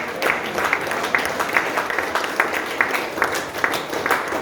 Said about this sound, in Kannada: ಎಲ್ಲರ ಚಪ್ಪಾಳೆ ಗ್ಲೋರಿ ಗ್ಲೋರಿ ಹೇಳಿ